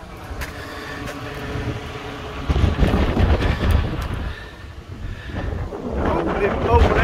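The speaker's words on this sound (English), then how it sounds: "It is windy!" Strong gusting wind on a school roof buffets the microphone with roaring, rumbling bursts that swell and ease, with indistinct voices faintly underneath.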